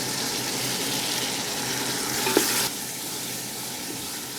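Onion and tomato saute in a pan of oil for a vegetable biryani, a steady, close, loud sizzle that runs without a break, with one brief clink partway through.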